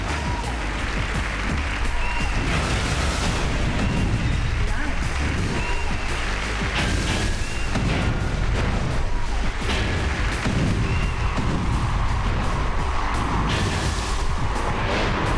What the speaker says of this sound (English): Now some jets will come down and strafe these guys.